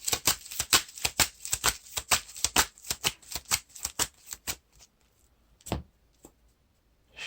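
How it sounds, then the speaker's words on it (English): A deck of game cards is riffled and shuffled in a quick run of crisp, rapid flutters close by, then a few isolated taps and settling slaps as the cards are squared, with no talking. "to shuffle this back into the encounter deck."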